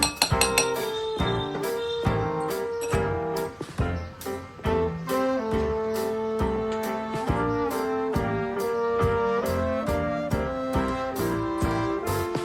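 A spoon clinks against a bowl while chili powder and vinegar sauce are mixed for Korean honey chicken, giving a steady run of bright metallic taps and scrapes that carries on close up throughout, with no talk.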